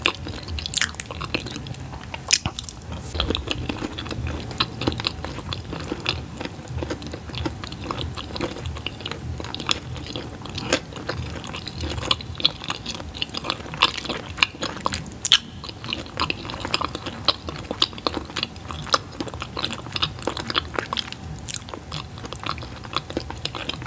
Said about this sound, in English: Sounds like nice chewy sounds.